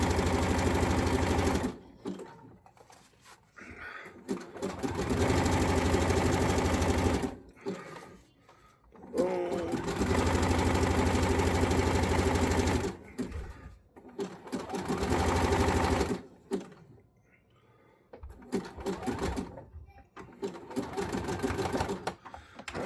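A sewing machine back-stitches and tacks black thread on a wrestling mask, running in several bursts of rapid, even needle chatter separated by short pauses, with a voice briefly heard between runs.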